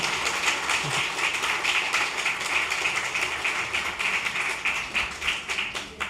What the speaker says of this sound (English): Please give her a round of applause to welcome her.